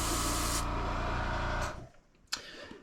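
An airbrush loaded with Viridian green paint hisses in a steady, close, continuous spray for over a second and a half, then cuts off, followed by quiet and one short sharp burst.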